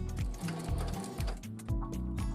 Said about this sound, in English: I'm just gonna start by sewing those two together.